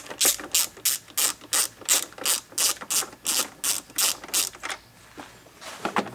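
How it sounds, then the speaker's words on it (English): A ratchet backs T30 screws out of a cover during an N54 oil cooler retrofit, giving a dozen rhythmic clicking ratchet strokes, close and clear, then a short pause and a few more clicks, no voices. "To take off the screws, there's generally 3."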